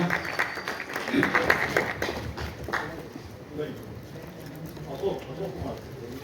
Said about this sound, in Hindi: सम्मान उनका, जोरदार तालियां।